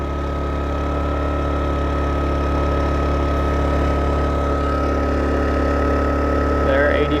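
A Ryobi portable generator runs right after starting, its engine holding a loud, steady, close mechanical drone with a constant hum throughout.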